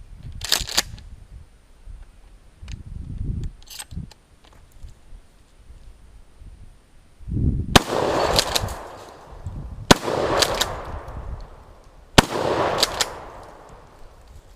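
Shotgun blasts at an outdoor shooting range: three loud, sharp reports spaced a couple of seconds apart, each with a rolling echo tail, preceded by quieter clicks and handling noise of the gun being loaded, with no speech.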